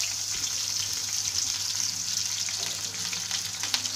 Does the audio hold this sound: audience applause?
no